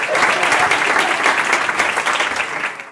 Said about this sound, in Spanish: Gracias por ese aplauso entusiasta,